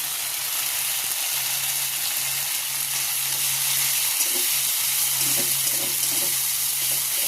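Chopped tomato tipped into hot oil in a pan, giving a steady, close sizzle and frying hiss throughout with a few light stirring clatters.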